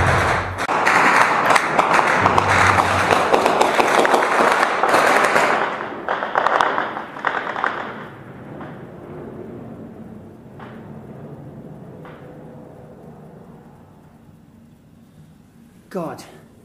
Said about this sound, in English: But these are the gunshots that are being shot by the rebels.